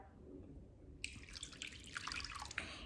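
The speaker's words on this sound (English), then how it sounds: "And then you're gonna add 250 grams of water." Water is poured into a bowl of sourdough starter, a quiet, close trickle and splash that begins abruptly and continues steadily for a couple of seconds, heard without talk.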